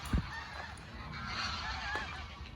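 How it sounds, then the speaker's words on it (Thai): Geese honk in the distance in a large green park in Hannover, Germany, a scattered chorus of calls over steady outdoor background noise, with a brief thump at the start. "ได้ยินเสียงห่านไหม"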